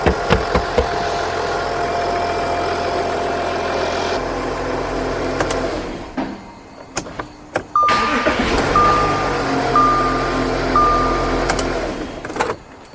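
An Audi Q7 with a 3.0 L engine idles in a garage, a steady low rumble with faint ticking that cuts out midway and then resumes, close and moderately loud throughout.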